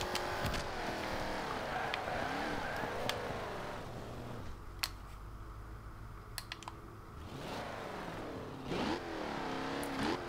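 Engine drone with rising and falling revs from a 2015 Jaguar F-Type R Coupe driven in the Forza Horizon 2 racing game on Xbox One, mixed with scattered clicks and shifts, no talking.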